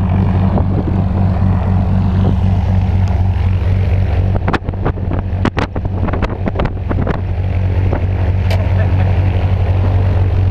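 A small propeller airplane idles at a skydiving drop zone as jumpers board for a parachute jump. The engine makes a loud, steady drone with wind buffeting the microphone and a few clattering knocks partway through.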